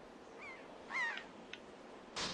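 A bird in Zelda: The Wind Waker HD caws in short, harsh calls a few times, each one quite faint, with a brief rustling swish near the end.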